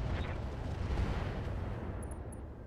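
Heavy mech weapons firing in the Roguetech battle game, a dense continuous rumble of booming artillery-like blasts, loud and close, with a few faint high tones near the end.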